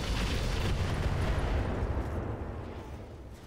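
Heavy mech weapons firing and explosions in the Roguetech battle game, a dense continuous roar of booms and rumbling blasts that slowly fades.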